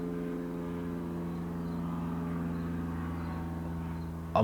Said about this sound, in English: And that plane doesn't sound good.